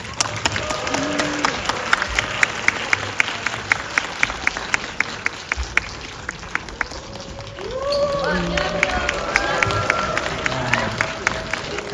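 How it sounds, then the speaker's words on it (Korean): A cinema audience at a stage greeting for the film Hitman 2 claps steadily, with sharp individual claps standing out over a crowd murmur, and voices grow louder toward the end. "여러분 다시 한 번 큰 박수 부탁드립니다"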